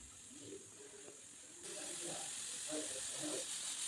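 A pressure cooker of tomato bath on the stove lets off steam, a steady hiss that jumps louder partway through and keeps blowing, with faint voice-like tones underneath.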